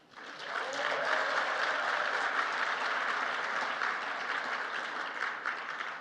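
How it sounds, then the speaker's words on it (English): Sustained applause from an awards dinner audience, steady and full for the whole stretch with no talk over it. "that deserves applause"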